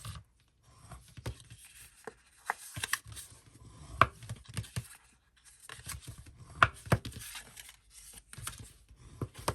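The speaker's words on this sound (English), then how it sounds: "Fold and burnish." Paper for a craft explosion box being creased and burnished, with crisp rustles, sharp crackles and scraping strokes coming in irregular bursts up close.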